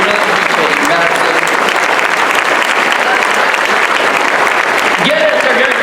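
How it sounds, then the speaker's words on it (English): Sustained standing ovation from a large convention audience at a keynote, dense loud applause filling the whole stretch with faint voices and cheers mixed in. "Look at you guys, everybody's giving you a standing ovation."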